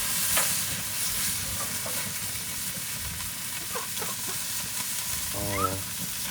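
Steaks sizzle on a flaming char grill at night, a steady close frying hiss broken by a few faint clicks and pops.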